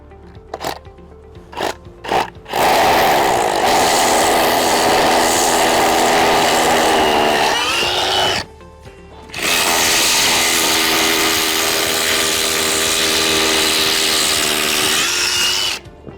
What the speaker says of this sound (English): So now I'm going to go ahead and drill some holes.